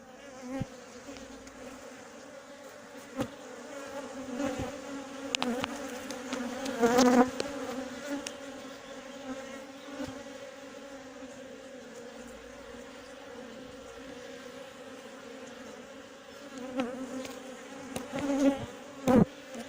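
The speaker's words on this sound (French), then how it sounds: "Il y a quelques abeilles qui me tournent autour, mais c'est pas une attaque." Honeybees buzz steadily around an open queenless hive, a continuous droning hum with a few louder passes near the microphone.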